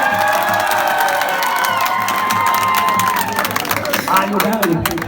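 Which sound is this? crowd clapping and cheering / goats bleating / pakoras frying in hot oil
crowd clapping and cheering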